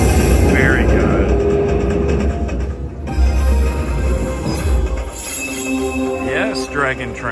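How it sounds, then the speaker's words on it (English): Jewel of the Dragon slot machine plays its Dragon Train bonus in a casino: loud electronic jingles, rising and falling chime sweeps and rumbling train-like effects, with excited voices mixed in. "Yes, Dragon Train."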